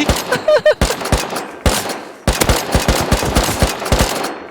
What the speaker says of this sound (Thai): โอ้โห ยิงทะลุแบบนี้ ตึ๊ง